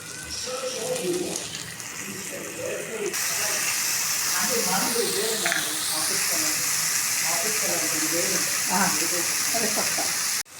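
Tomatoes, green chillies, garlic and tamarind sizzle and hiss steadily in a hot pan, a continuous close frying sound with occasional stirring.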